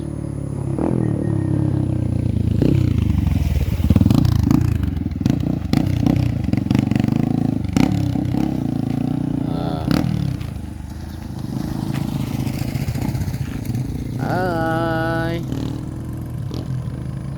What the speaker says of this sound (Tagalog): pagdating dito maganda na magmotor kasi simentado na